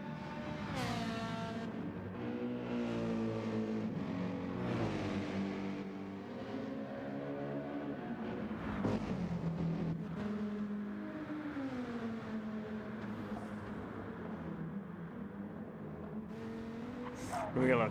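GT3 race cars in a racing video game, engines droning and rising and falling in pitch as they accelerate and shift, with a commentator talking over the continuous sound.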